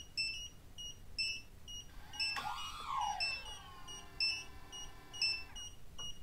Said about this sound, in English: No, it's a low battery warning.